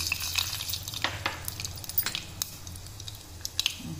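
Mustard seeds splutter in hot oil in a pan, throwing out quick sharp pops and crackles in irregular bursts over a low frying hiss, close by and without speech.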